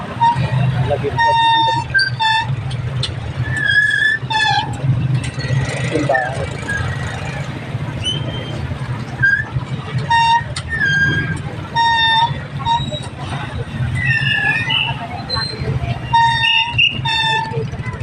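Busy street traffic with repeated car horn toots and honks scattered throughout, some short and some held, over a low rumble of engines and buses, with people talking now and then.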